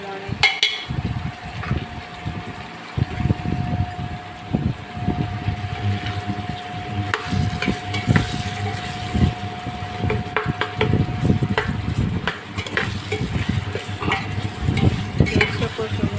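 A spiced potato curry sizzles in a pan while it is stirred repeatedly, with rhythmic scraping and clatter over a constant frying hiss and a steady faint tone in the background.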